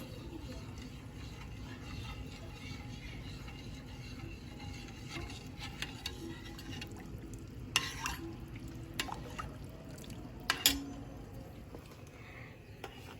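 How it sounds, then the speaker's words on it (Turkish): Tarhana soup mixture stirred in a pot, a soft steady scraping and bubbling wash with a few brief clinks of the spoon against the pot, heard fairly quietly. "Karıştırıyoruz."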